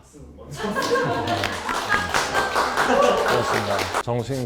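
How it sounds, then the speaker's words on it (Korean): A small studio group claps briefly to welcome two psychiatrist guests on a talk show, a short burst of hand claps mixed with talking and laughter, ending as voices carry on alone. "작은 박수 먼저."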